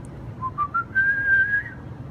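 A single person whistles a short rising glide, starting with a few brief chirps and settling into a sustained, pure, steady tone, close and clear over a quiet background.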